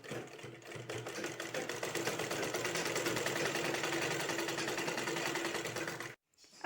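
A sewing machine stitches two quilt panels together, running in a steady, close, continuous whir for about six seconds before stopping abruptly.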